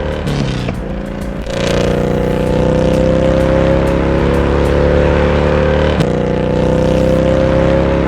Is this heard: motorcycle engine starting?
yes